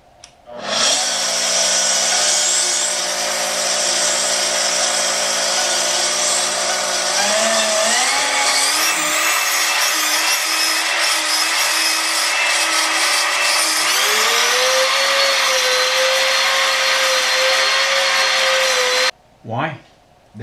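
A CNC spindle with a VFD on a Shapeoko 5 runs steadily at a high whine with a vacuum roaring alongside, the pitch shifting a couple of times before it cuts off abruptly near the end.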